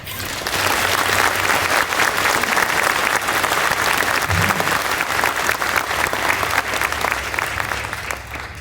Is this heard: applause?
yes